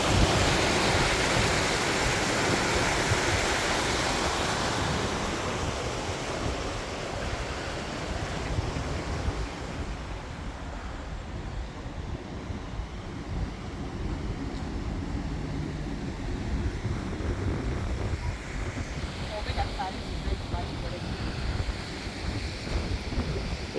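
Steady, loud rushing water roars without a break, a dense broadband wash of a fast stream near Motovun in November, close by.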